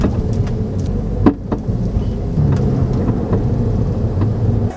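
An Audi A3 with worn sway bar end links driving on the road, a continuous low rumble of tires and engine with occasional sharp knocks and clunks from the suspension, heard from inside the car.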